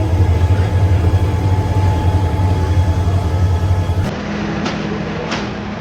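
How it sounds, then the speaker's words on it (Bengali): A train on the Dhaka to Chittagong route rumbles in with a loud, steady low engine drone. The drone drops off abruptly partway through, leaving quieter station ambience with a couple of faint knocks. "অবশ্যই আমাদের ট্রেন চলে আসছে"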